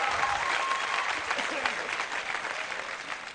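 Studio audience applause on a Lebanese music TV show, honoring a veteran singer: steady, close clapping across the whole stretch, with faint voices mixed into the ovation.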